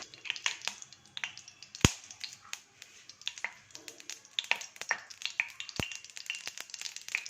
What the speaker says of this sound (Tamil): எண்ணெய் நல்லா காஞ்ச பிறகு அதில் கொஞ்சோண்டு கடுகு முதல்ல போட்டு தாளிச்சுக்கணும்.